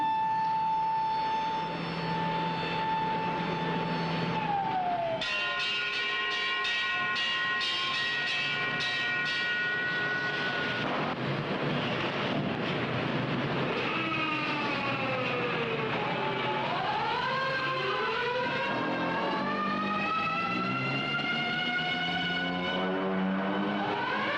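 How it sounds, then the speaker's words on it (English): A long, rising and falling warning siren in a United States city wails loudly over distant city noise, its pitch sweeping up and down repeatedly with no talking. "the banshee wail of the siren echoes the warning"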